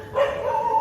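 A single short, close dog bark at night, loud and alone.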